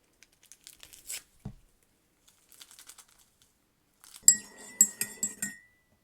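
Stevia In The Raw sweetener packets being torn open and poured into a cup of coffee: soft rips and crinkles, then a cluster of small clinks and rattles near the end, close and quiet, with no talking.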